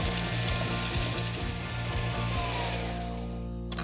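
A powerful food processor whirs loudly and steadily, blending tart crust crumbs with eight tablespoons of melted butter for a chocolate pistachio fudge tart, the grinding motor running unbroken for several seconds.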